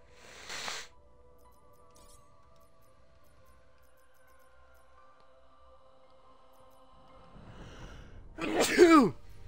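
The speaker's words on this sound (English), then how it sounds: "I sneezed snot into my mouth." A single loud, sharp sneeze bursts out near the end, after a long stretch of faint background hum and a brief noise at the start.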